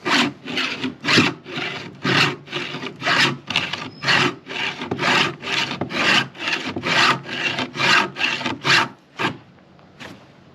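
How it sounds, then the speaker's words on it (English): A round file rasps back and forth in a chainsaw cutter guided by a Stihl 2-in-1 sharpener, about twenty steady rhythmic strokes, close and fairly loud, with no talking. "Now we can put this round file into the cutter."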